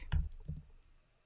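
A few quick keystrokes on a computer keyboard while entering a web search, two sharper taps then softer clicks fading out within about a second, close and quiet.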